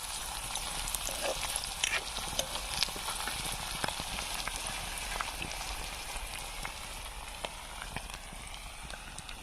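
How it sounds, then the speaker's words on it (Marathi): Green chickpeas spluttering in hot oil while cooking a chickpea-leaf stir-fry, a dense faint crackle of small pops and sizzle throughout, steady and close with no voices. "सोले टाकून सोले फुटत आहेत तेलामध्ये"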